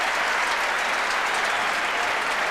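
Stadium crowd at Football Park applauds during a 1993 Australian rules football match between Adelaide and Collingwood, a steady dense roar of clapping and cheering that fills the whole stretch without break.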